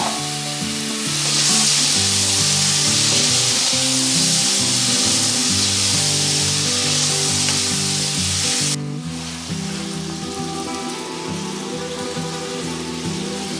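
Marinated chicken for chicken kosha sizzles and fries loudly in a pan with turmeric and chili powder, making a dense, continuous crackle. Stirring scrapes come through near the mic.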